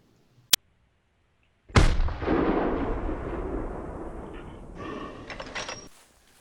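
A rifle shot fired at a bear in theHunter, a hunting video game: a sharp crack at the start, a short silence, then a loud booming report with a long rolling echo that fades away.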